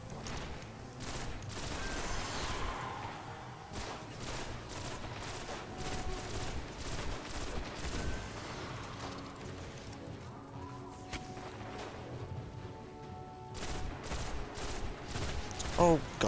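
Gunfire in the video game Destiny during the Devils' Lair strike, a dense run of rapid shots and bursts under game effects that carries through the clip at moderate level, with a player's voice speaking over it.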